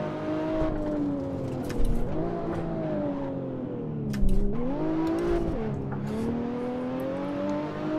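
A BMW 1M Stage 3 climbs a hillclimb course, its engine revving hard in second gear, with pitch rising and falling as the wheels spin. Sharp bursts of noise cut in twice, and the engine stays loud and close the whole time.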